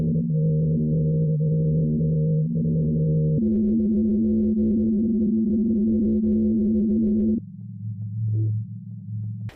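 Seismic sensor recording of the singing ice of the Ross Ice Shelf, made audible as a continuous low droning hum with shifting tones that steps down in pitch partway through and ends in a deeper, quieter drone.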